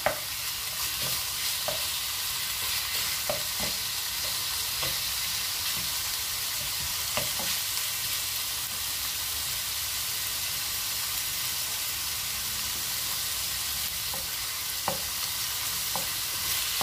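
Onion, garlic and chicken sizzle steadily in a frying pan while being stirred, with a constant hiss broken by light scraping and clicking taps of the spoon against the pan throughout.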